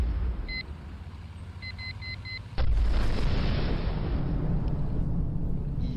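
A grenade explosion in the tank video game Tanki, a sudden loud boom that cuts in after a few faint beeps and leaves a sustained roaring rumble behind it.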